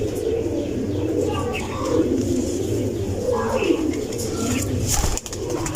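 Pigeons coo again and again at close range in a pigeon keeper's loft, with soft chirps mixed in and someone talking over the birds throughout.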